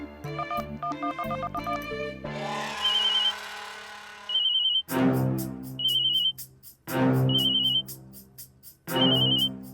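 A telephone rings in repeated electronic bursts, loud and close, after a short musical passage, with each ring separated by brief pauses; no one speaks.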